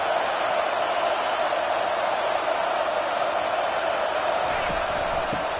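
A home crowd at a college football game, Clemson versus James Madison, roars steadily as a broad, continuous wall of noise, loud and unbroken, as if filling a stadium.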